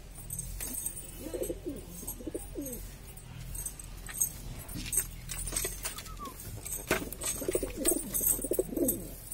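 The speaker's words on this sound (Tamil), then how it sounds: "இது இன்னொரு கலர் புறா" Pigeons in a coop coo in repeated low, throaty, bubbling calls close by, with occasional clicks and rustles between bursts and no talking.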